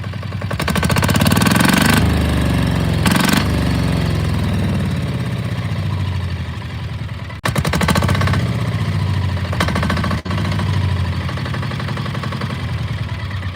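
An ATV engine with a fire-damaged, low idle runs loud and close, its rough, pulsing throttle revs rising and falling with a couple of brief dips.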